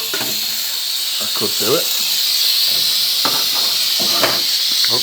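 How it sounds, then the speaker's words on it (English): Silvercrest steam mop from Lidl hissing with a steady broadband rush of steam throughout, close and fairly loud, while a person talks over it intermittently. "I hope you can hear this okay over all the steam"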